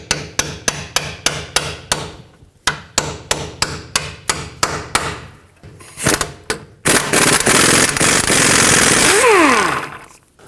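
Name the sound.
hammer tapping 17mm socket onto Toyota Camry tie rod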